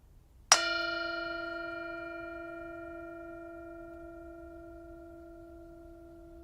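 A single bell strike rings out clearly, its pure tone sustaining and slowly fading over several seconds in a quiet room.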